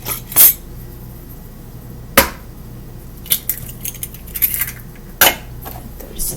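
Eggs cracked into a mixing bowl while making homemade cornbread, heard as a few sharp clinks and taps against the bowl spaced over several seconds, close by with a quiet room between them.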